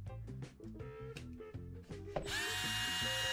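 A small brushed electric motor being installed runs steadily in reverse, a loud continuous whir with rhythmic pulsing that jumps to a higher, brighter pitch partway through.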